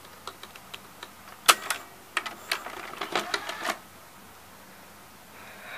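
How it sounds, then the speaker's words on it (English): A Hitachi VT-M260A VCR starting to rewind a tape: a quick run of sharp mechanical clicks and clunks from the transport, then a quiet, low hum. "Let's rewind. Then I'll eject it."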